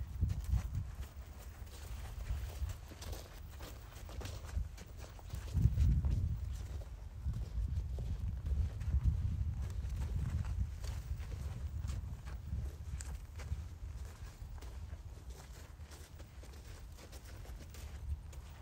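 A horse walks around a round pen, its hooves making soft, irregular clip-clop thuds on the ground at close range, with one heavier stamp partway through and quiet surroundings.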